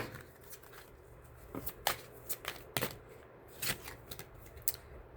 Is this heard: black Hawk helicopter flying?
no